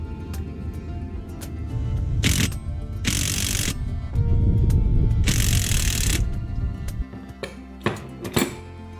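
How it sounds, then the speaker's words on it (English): An OTC front end service kit puller pulling a bearing inner race off a shaft, heard as loud, close grinding and clanking metal with bursts of harsh scraping, then quieter taps and clicks. "Here I'm removing the bearing inner race."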